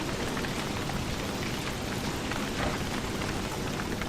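Dense, steady rainfall in the video game Don't Starve, a loud continuous hiss of drops with no breaks and no talk over it.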